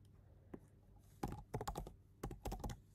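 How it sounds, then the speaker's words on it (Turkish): Keys on an unfamiliar computer keyboard clatter in quick irregular bursts of clicks with short pauses between them, close and fairly quiet. "Farklı bir klavye kullanıyorum bugün, o yüzden fazla hata yaptım."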